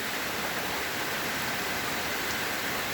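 Rain falling steadily outdoors as a dense, even hiss that holds constant throughout with no talk.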